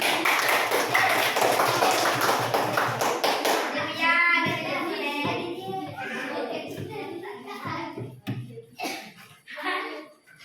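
Students in a class break into loud, rapid hand clapping for several seconds, which fades out as a teacher starts speaking over the quieting room.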